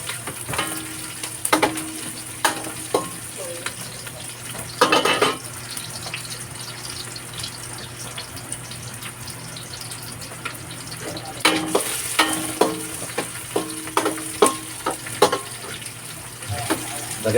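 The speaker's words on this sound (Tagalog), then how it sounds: "Gigisa ko lang ng konti para lalong sasarap yung luto natin" Pork ribs sautéed with lemongrass in chicken oil in a pan, a steady sizzle with intermittent clanks and scraping of a utensil stirring, close and fairly loud, with a voice talking over it at times.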